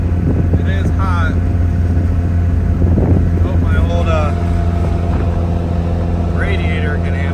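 A 1988 Toyota 4Runner engine with an LCE Street Stroker labors uphill in fourth gear on a hot day, a steady loud drone with wind rush throughout and someone talking over it.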